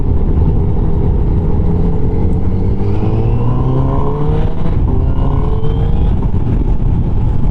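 A 2019 Honda CBR1000RR SP1 with a freshly tuned ECU accelerates loudly up close, its engine note climbing through rising pitch sweeps and gear changes without pause.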